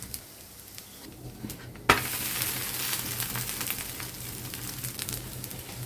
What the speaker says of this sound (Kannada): ತವದ ಮೇಲೆ ಹಾಕಿ ಎರಡು ಕಡೆನೂ ಚೆನ್ನಾಗಿ ಬೇಯಿಸಿಬಿಡಿ